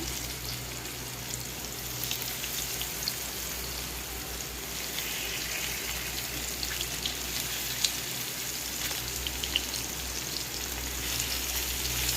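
Steady hissing sizzle of fish frying in hot oil, constant and fairly quiet throughout with occasional small pops.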